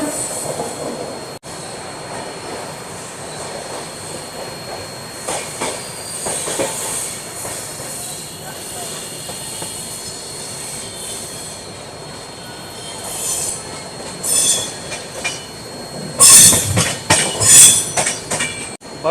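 Pune Duronto AC Express rolling slowly through Bharuch Junction toward the Narmada river bridge, with steady rumble, clickety-clack of wheels and squealing rail contact, growing louder with bursts of high screech near the end.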